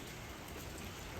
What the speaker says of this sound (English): that was pretty short little rain